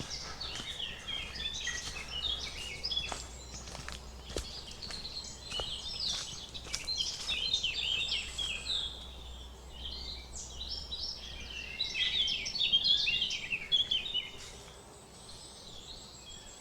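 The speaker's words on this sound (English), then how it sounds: "Birds are busy, aren't they?" Birdsong in open countryside, several birds chirping and warbling at moderate distance, busy overlapping calls that swell toward the end, over a soft outdoor background with occasional faint clicks.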